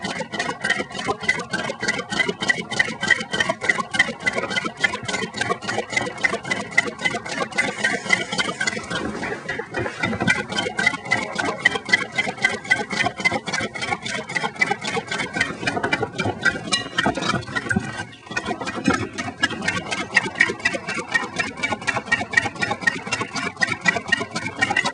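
A small Stirling engine runs steadily, giving off a fast, even mechanical clatter with regular ticking beats that continues unbroken throughout, close and fairly loud.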